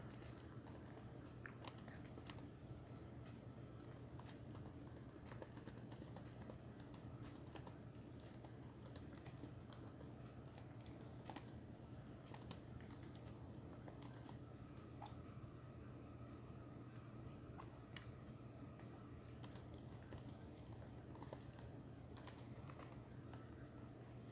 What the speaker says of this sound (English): Sorry, I was quiet there while typing that out.